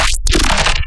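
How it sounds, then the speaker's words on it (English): A loud glitch sound made in the Serum synthesizer, a short burst of dense scraping, crunchy noise with a brief dropout near the start, heard alone for under a second. "This was a glitch I made in Serum in my 15-hour stream."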